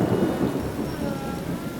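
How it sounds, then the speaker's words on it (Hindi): Heavy rain pours steadily in a dense, continuous hiss while deep rolls of thunder rumble underneath, close and loud throughout, with no voices. "बारिश बहुत तेज है"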